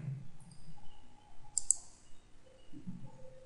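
A computer mouse is clicked twice in quick succession while working in a web browser, crisp and close against a quiet room hum.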